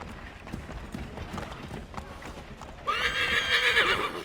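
A horse in Assassin's Creed 3 Remastered on Xbox Series X clops along in a rapid gallop, then lets out a loud close whinny near the end over game ambience.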